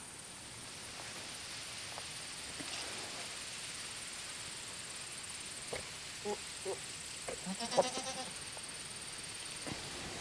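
Boer goats in a breeding-season herd give a few faint, scattered bleats over a quiet farm background, with a slightly louder cluster of calls late on.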